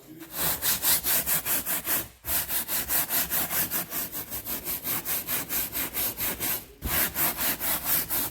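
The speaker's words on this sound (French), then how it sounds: "je prends la brosse." A stiff brush scrubs a fabric car seat in steady back-and-forth strokes, a rhythmic rasping close to the listener, with two short pauses between runs of strokes.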